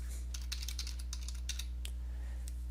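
Fingers type on a computer keyboard in quick bursts of close, crisp key clicks, pausing briefly before a final few taps, over a steady low hum with no voices.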